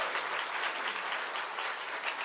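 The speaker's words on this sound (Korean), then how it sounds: "박수 한번 할까요?" Applause from a church congregation during a Sunday morning worship service, a soft, steady wash of many hands clapping, somewhat distant and even throughout, with no speech.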